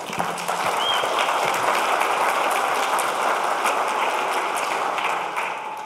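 Audience applause following a live software deployment demo at a tech conference, a steady dense wash of clapping filling the room for the full stretch and easing slightly at the end.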